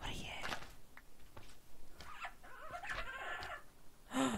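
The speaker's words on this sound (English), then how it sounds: "More chickens. I knew there were chickens here." Short clucks and squawks from chickens in a Minecraft modpack, several scattered calls with gaps between them, fairly close, with a sharp squawk near the end.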